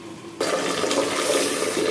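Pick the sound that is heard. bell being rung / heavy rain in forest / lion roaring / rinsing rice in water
rinsing rice in water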